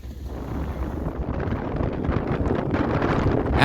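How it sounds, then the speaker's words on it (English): Strong, steady wind buffeting the microphone on an open, boggy rock summit in Newfoundland, a continuous loud low roar that builds slightly toward the end with no voices. "After cresting a certain point climbing the rock to its summit, the wind becomes very steady and very strong."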